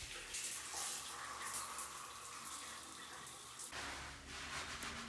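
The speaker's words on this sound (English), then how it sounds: "I started off by wetting my hair." Water runs steadily from a tap while wetting Type 4 hair on wash day, a continuous soft splashing hiss that shifts in tone partway through, fairly quiet and with no talk.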